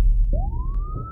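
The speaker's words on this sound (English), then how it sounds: "That's the siren." Siren sound effect set off by a button press on a radio show, a single electronic tone that sweeps steadily upward after a short thump, loud and close with no talk.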